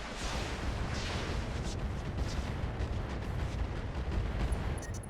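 Inferno missiles launched in the mech combat game RogueTech, a BattleTech mod, roar in a dense, continuous rumbling barrage of overlapping blasts and whooshes, loud and sustained for the whole stretch without speech.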